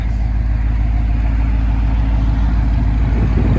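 Deep, steady low rumble from a Ram Power Wagon's 6.4L Hemi V8 idling through a Dynomax Race Bullet muffler, heard close with no talking over it.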